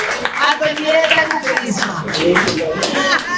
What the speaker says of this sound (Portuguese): Que un aplauso grande para sobra, mundo a conocer.